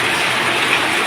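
Heavy rain pouring down at a garden home beside a canal in Thailand, a dense, loud, even hiss that fills the whole stretch without pause and with no voices.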